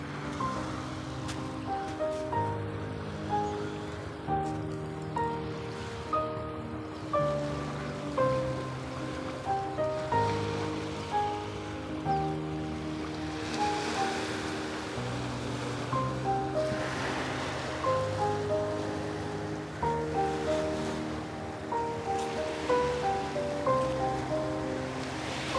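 Sea waves break on rocks at Aksa Beach in Maharashtra, a soft repeated surf wash heard faintly beneath a prominent melodic music track.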